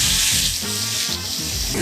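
Chopped onion dropped into a hot pot for a Filipino galantina-style dish sizzles loudly and steadily, with stirring and scraping textures over the continuous frying hiss.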